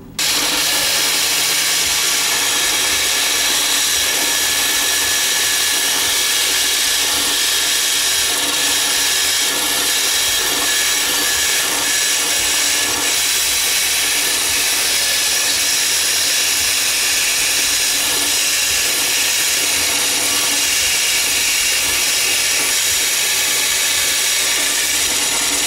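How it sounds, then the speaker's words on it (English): A bandsaw cuts loudly and continuously through a glued plastic part in a workshop, its roaring blade noise steady and close for the whole stretch. "what I'm going to do is take this over there to that bandsaw and cut"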